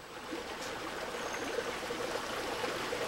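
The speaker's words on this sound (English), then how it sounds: "You've got ponds and this wonderful waterfall coming down into the pond" A garden waterfall pours steadily into a pond, giving a constant close rush and splash of water with no talking.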